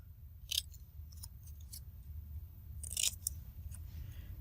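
Scissors snip through paper in a few quick, crisp cuts, scattered singly and in small clusters, close and fairly faint over a low background hum, with no talking.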